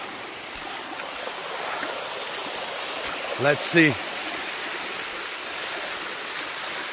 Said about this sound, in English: Look at this. Mini waterfall.